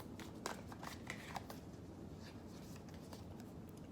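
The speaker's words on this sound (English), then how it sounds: "I'm just going to keep shuffling really quick" Tarot cards are shuffled quickly by hand, giving a soft run of riffling flicks and light card slaps close by but quiet, with no voices over them.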